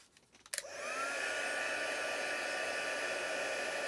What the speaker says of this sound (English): now a little bit of noise for a minute while I heat emboss that.